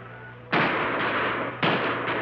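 Two loud gunshots crack about a second apart in a Western TV episode, each a sharp close blast followed by a lingering echoing tail.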